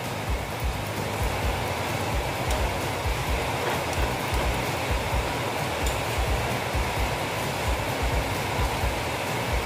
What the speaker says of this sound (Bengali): খুব বৃষ্টি হচ্ছে, আওয়াজ হচ্ছে